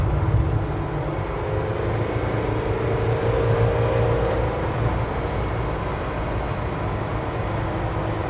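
A red 1951 Chevrolet 3100 pickup cruises down the road at about 70, giving a steady, even low engine and road rumble from inside the cab, with no talking.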